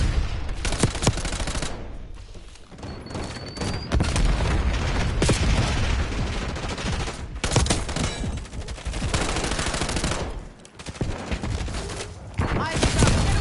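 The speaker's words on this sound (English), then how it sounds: "Enemy flashbang." Dense gunfire and explosive bangs fill a Call of Duty Black Ops 6 battle, with a flashbang among them. Bursts and booms are loud and nearly continuous, and voices call out over the fighting.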